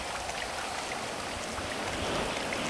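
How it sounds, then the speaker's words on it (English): Steady rain falling in Grand Theft Auto San Andreas, a constant even wash of drops with no voices, holding at a uniform level throughout. "I'm wet and it's raining, so there's no other perfect time to start."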